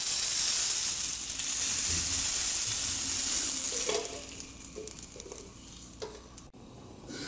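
Garlic, onion and chili sizzle loudly in hot oil, a bright crackling hiss that eases after a few seconds into quieter frying with a few soft clinks.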